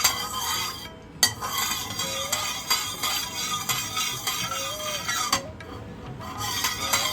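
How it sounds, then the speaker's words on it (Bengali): Mustard oil is swirled around a kadai, giving a steady scraping stir with occasional metallic clinks and a faint sizzle throughout. "তেলটাকে আমরা কড়াইতে চারিদিকে গুলিয়ে নেব।"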